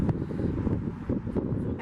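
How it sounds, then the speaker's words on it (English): Wind blowing outdoors by an old house, a low rumbling gust buffeting the microphone continuously, rough and fluctuating with no speech. "it's getting kind of windy, so you might be hearing a lot of the wind"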